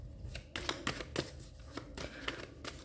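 Tarot cards being drawn and laid out, a run of close, soft papery flicks and slaps coming in a quick uneven rhythm with no talk.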